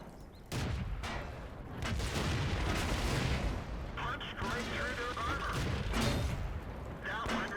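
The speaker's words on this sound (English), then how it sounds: "somebody's shooting at me and I don't want to take too many chances" Tank cannon and gunfire in World of Tanks: dense, booming battle noise with repeated heavy shots and mechanical rumble running throughout, while a voice talks over the top.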